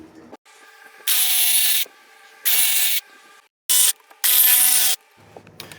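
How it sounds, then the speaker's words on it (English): A jigsaw cutting through a clamped wood board, loud close buzzing bursts of sawing separated by short pauses, four cuts in a row ending with lower handling noise. "I'll get this clamped and I'll get it cut out with the jigsaw"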